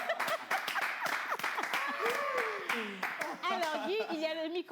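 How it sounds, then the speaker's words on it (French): An audience applauds to welcome a guest at a gathering, the clapping running under overlapping voices and chatter throughout. "On applaudit."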